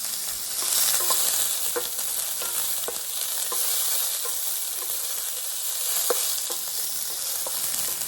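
Carrots and green onions sizzle steadily and loudly in a pan, a dense continuous frying hiss with scattered light pops and utensil taps throughout.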